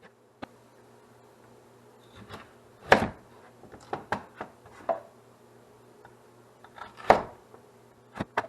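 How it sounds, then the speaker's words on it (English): A knife chops onions on a cutting board with irregular, close, crisp taps and knocks, some louder strikes among lighter cuts, in an otherwise quiet kitchen. "When I cut onions, I leave the root so that it doesn't fall apart."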